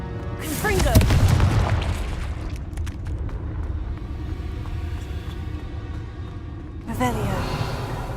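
Confringo fire spell cast in the Hogwarts Legacy game: a loud burst and booming blast with rumbling debris that fades into a low sustained rumble, then a second shorter impact near the end.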